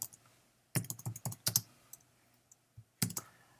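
Keyboard typing arrives in short bursts of crisp, close keystrokes with pauses between, over a quiet low hum, and no one speaks.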